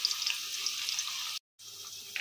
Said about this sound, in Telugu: అలాగే కట్ చేసుకున్న ఆనియన్ కూడా వేసి వేయించేసుకుందాం.